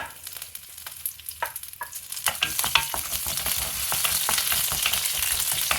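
Dried red chillies and curry leaves crackle and pop in hot oil, quiet at first, then a dense, steady sizzle with sharp spattering bursts. No voices.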